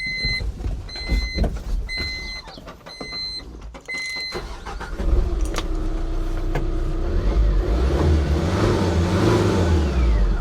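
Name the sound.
Tata Intra V30 pickup engine starting and revving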